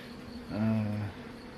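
Bees at an opened beehive give one brief, agitated buzz that swells close by and fades within about half a second against a quiet background.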